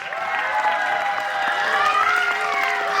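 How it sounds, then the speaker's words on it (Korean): Applause and scattered cheering from a cinema audience at a stage greeting for a dubbed Lion King screening, a broad, sustained wash of clapping with voices and whoops mixed through it. "자 박수로 마무리하겠습니다."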